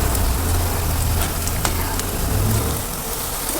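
Onion paste frying in hot oil while making an aloo sabzi, giving a steady, dense sizzle that runs without a break and holds close and fairly loud, with a few faint clinks of stirring.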